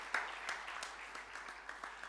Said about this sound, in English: give a very hearty roar of applause to both